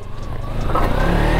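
A low-slung motorbike with little ground clearance, stuck on a stone in water, has its engine revving hard and steadily at close range.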